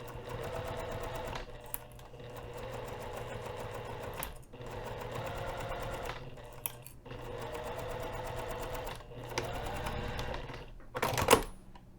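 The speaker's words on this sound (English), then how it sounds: "lift the presser foot up, zip the zipper head out of the way, and continue sewing." Sewing machine stitching a hinged zipper pocket on a bag, running in steady bursts of rapid mechanical stitching broken by short pauses, close and clear with no talking.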